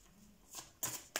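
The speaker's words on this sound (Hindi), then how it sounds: "इतने बड़े बड़े कार्ड्स से शफल ही नहीं करते बनता" Large tarot cards being shuffled by hand, a few soft riffling bursts and slaps, close and fairly quiet, spaced out over about a second.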